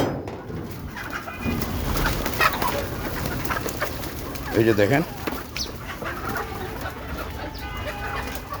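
Backyard chickens cluck and call close by as they are let out of their coop, a busy mix of fowl sounds with someone speaking over them.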